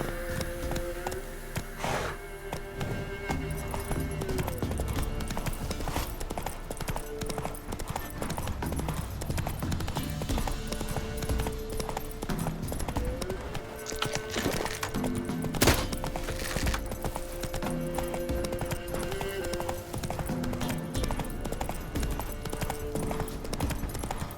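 Horse hooves clip-clopping at a quick, steady gait in the video game The Witcher 3, continuous under game music and ambience with a brief whinny-like accent midway; no clear talking.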